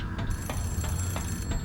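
A telephone ringing in the horror video game The Suffering, heard as a repeating bell-like trill that pulses roughly every third of a second over a low, rumbling game ambience, with no talk.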